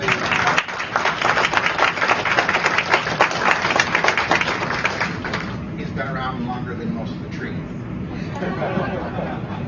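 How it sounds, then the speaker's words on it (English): Audience at a press conference bursts into loud, dense applause for Delmer Jackson, then the clapping thins and fades into crowd murmur and chatter. "I wanted everyone to give him a round of applause, Mr. Delmer Jackson"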